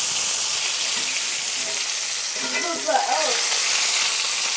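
Fish fillets frying in a hot pan after being flipped, a steady close sizzle with a brief burst of crackle and bubbling partway through.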